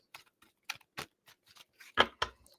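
Tarot cards being shuffled by hand, a few short crisp riffling and slapping bursts spaced irregularly, close and fairly quiet, with silence between.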